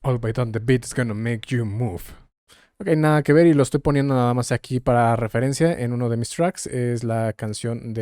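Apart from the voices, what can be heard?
No everyday noise stands out behind the speech.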